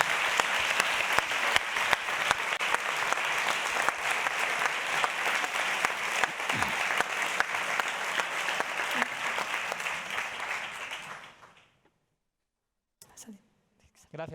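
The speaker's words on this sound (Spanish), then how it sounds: "vamos a darle un fuerte aplauso a Rafa." An audience at an education event opening applauds loudly and steadily for about eleven seconds, then the clapping fades out into near silence before a few faint sounds at the end.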